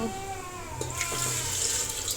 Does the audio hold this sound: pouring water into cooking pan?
yes